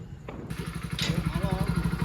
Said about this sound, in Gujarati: ઘર સુધી હું બાઇક ચલાવીશ